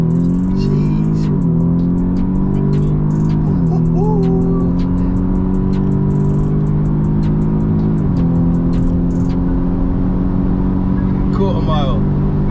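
A basically stock Audi S3 8V with a DSG gearbox on a quarter-mile run, its engine revving hard and loud up through several quick gear changes, with voices talking over it throughout.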